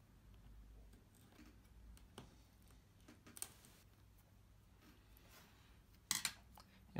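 A tool scrapes glue points off the back of a Samsung S8+ phone, giving faint, scattered little ticks and scratches over quiet room hiss, ending in a short burst of sharper clicks.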